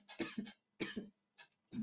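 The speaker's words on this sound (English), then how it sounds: "I'm about to cough." Several short, harsh coughs in quick bursts, close and fairly quiet, with brief pauses between them and no talking.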